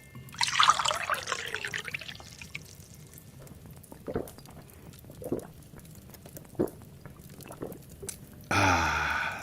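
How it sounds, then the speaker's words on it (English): Spring water is poured into a tall glass, a bright splashing gush at the start that settles into a gurgling trickle, followed by a few soft clinks and drips, then a brief burst of fizzing noise at the end. "This calls for a tall glass of delicious roaring spring water."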